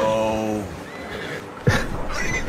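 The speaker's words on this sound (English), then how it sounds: "This should be a Mustang, let's see. It's a Mustang." Mustang horse in Red Dead Redemption 2 lets out a short, falling neigh at the start, then a brief thud and continued game sounds. Someone talks over parts of it.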